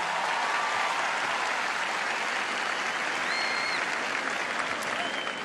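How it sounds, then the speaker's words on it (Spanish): Festival audience at Viña del Mar applauding steadily for the full stretch, a dense, loud wash of clapping from a large crowd with no talk over it. "quiero que este primer aplauso esta noche sea para ustedes con toda mi gratitud."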